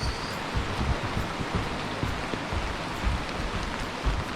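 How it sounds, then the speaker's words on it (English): Steady, even hiss of rain falling on a foggy hiking trail, a soft continuous patter with no voices. "It's a foggy, rainy mess."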